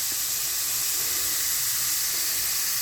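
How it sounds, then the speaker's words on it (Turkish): Onions frying in a pan for a mushroom dish, giving a steady, even sizzling hiss throughout, close and fairly loud, with no talking. "Şimdi soğanımı kavurdum."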